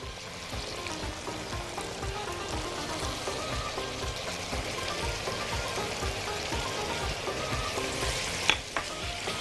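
Sauce of ketchup and vinegar sizzles steadily in a hot pan while being stirred, a continuous close frying crackle with soft scraping, no voices.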